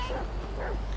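Dog barking in Grand Theft Auto V, a celebrity's dog running through Vinewood streets while chased; short yips and bow-wows sound close and fairly loud over game background noise, about one second long.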